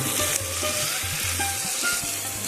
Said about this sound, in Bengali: ঢাকা চাপা দিয়ে মিডিয়াম হিটে আমি কষিয়ে নিচ্ছি বারবার একটু নাড়াচাড়া করে নিতে হবে